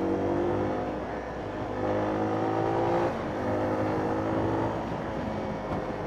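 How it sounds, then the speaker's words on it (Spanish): A single-cylinder motorcycle engine drones steadily while riding, a loud, continuous low-pitched thrum with slight rises and dips in revs as the bike moves along, with wind rushing past and no talking. "Me gusta el sonido del motor."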